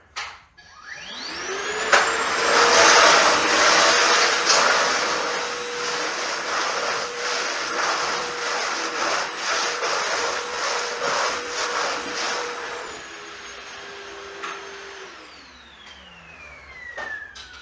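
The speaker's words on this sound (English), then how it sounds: "let's try to vacuum up this sawdust that I made a little bit earlier" A loud, steady Milwaukee M18 FUEL backpack vacuum motor roars continuously, rising as it starts and winding down at the end, with a rough rattling of sawdust and leaves being sucked in.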